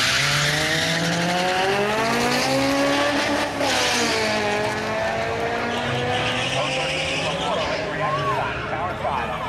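Drag racing cars, a Honda against a Mustang, launch down the strip with loud, rising engine roars and tire squeal, heard from trackside over crowd noise and an announcer's voice.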